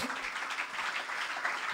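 Church congregation applauding loudly for the Lord during a sermon, a brief burst of dense clapping heard from across the room.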